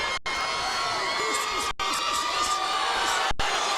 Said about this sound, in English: the chant going up from the crowd